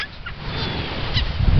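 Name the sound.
baby gulls calling on a beach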